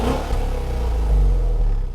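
A 2015 Mercedes-Benz S550 4Matic's 4.7-liter twin-turbo V8, rated at 455 horsepower, fires up with a loud opening flare, then settles into a steady deep rumble, close and alone, for two seconds.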